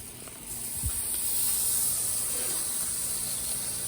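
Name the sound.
bacon sizzling on a griddle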